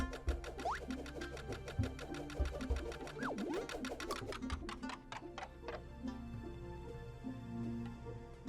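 In the video game Bug Fables, a crank mechanism is turned with a rapid, regular ticking and clicking rhythm over background game music, steady throughout.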